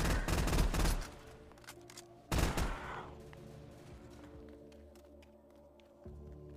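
Gunfire from pistols and shotguns in a Roblox zombies game, with a loud cluster of shots at the start, another sharp blast a little later and a fainter one near the end, separated by quieter game ambience.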